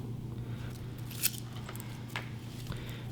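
Scissors snip yarn ends on a dream catcher, giving a few faint, crisp cuts over a soft steady hum, with no talking.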